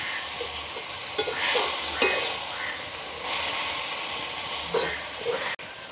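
Potatoes and carrots being stirred into frying onions in a pot, village-style outdoor cooking: a steady sizzle with scraping stir strokes rising and falling, fairly close, one sharp knock near the end, no talk.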